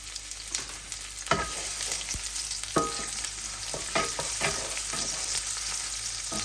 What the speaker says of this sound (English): it's time to add the diced garlic